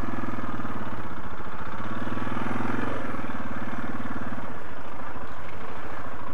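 A Suzuki DR650 dual sport motorcycle pushes through muddy ground, its engine a steady close rumble that rises and then eases off as the bike moves along.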